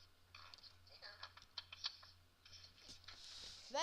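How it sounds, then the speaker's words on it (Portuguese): Computer keyboard keys clicking in quick irregular bursts during a DDTank gaming session, fairly faint and close, with a steady low hum underneath and a loud burst at the end. "Dá pra escutar daqui, velho. Fica tique, tique, tique, tique. Meu teclado."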